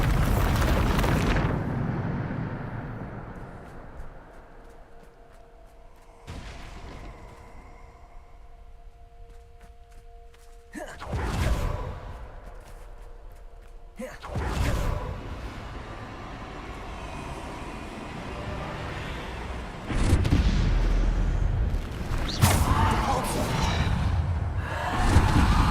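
A Bombarda spell detonates in Hogwarts Legacy, heavy booms and whooshing blasts landing in several bursts over a long stretch, with rumbling debris and quieter gaps between them.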